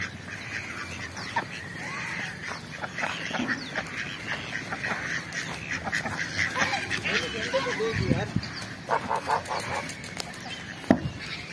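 Ducks quack in short, uneven calls at a duck enclosure beside larger ducks, heard moderately near and partly under someone talking.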